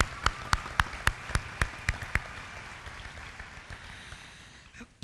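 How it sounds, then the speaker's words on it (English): An audience at a Kennedy Center finals event claps for itself, led by a string of about eight loud, evenly spaced close handclaps over a softer spread of crowd applause that gradually fades out. "So please give yourselves a round of applause."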